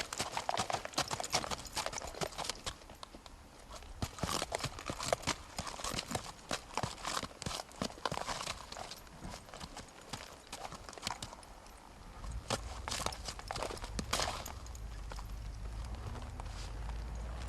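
A six-year-old Foxtrotter mare walks slowly, her hooves clip-clopping in a steady, even rhythm of close, crisp strikes, with a low rumble joining near the end.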